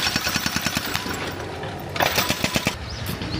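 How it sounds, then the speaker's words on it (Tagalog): Jackhammer construction work in a park pounds in fast rhythmic bursts, loud and close, with a second harsher burst of hammering joining partway through amid steady machinery noise. "Construction ongoing ang park."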